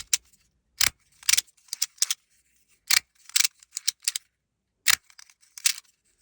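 Irregular mechanical clicks and ticks from a motorized camera slider, a few sharp, most softer, in uneven bursts as it creeps along, close and unaccompanied.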